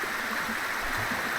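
Natural spring water flows steadily at a drinking spot, a soft continuous rushing close by with no talk over it.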